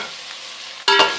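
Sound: chopped tomatoes added to frying onions, stirred

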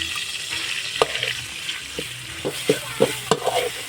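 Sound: food frying in hot oil in pan

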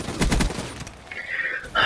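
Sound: gunfire ending in a headshot kill, from video game Call of Duty: Black Ops III

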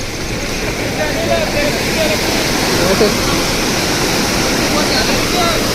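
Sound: swollen rushing stream water after first rain

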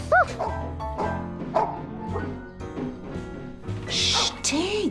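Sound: dog barking

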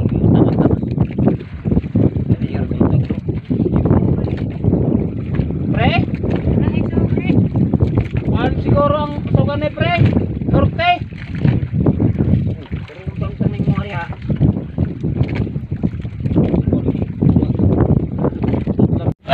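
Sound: strong wind on a fishing boat at sea

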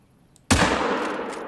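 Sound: rifle gunshot in a video game

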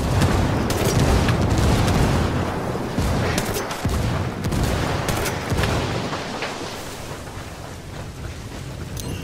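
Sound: grenade explosion and gunfire in the video game Ghost Recon Wildlands

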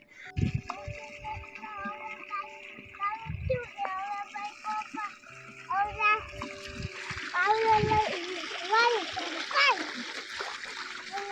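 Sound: water pump motor pouring water

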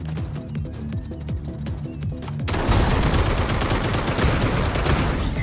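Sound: gunfire in Akimbot video game

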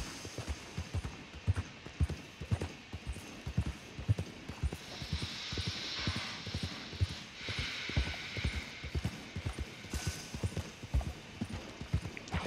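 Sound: horse hooves clip-clop in video game

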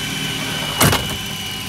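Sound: jet turbine engine motoring at low RPM

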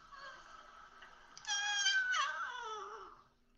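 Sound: cat meowing

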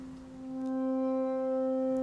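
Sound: chord played on reversed wine glass sample instrument

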